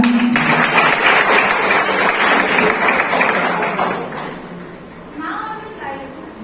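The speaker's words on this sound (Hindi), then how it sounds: "जोरदार तालियां।" Loud, thick applause from a university audience at a National Engineer's Day event at Dr. C.V. Raman University in Bhagwanpur, Bihar, holds for about four seconds, then thins and fades as a voice starts speaking.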